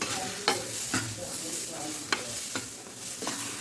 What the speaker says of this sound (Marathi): आंब्याचा रस आपण याच्यामध्ये मस्त कमी गॅसवर परतून घ्यायचा आहे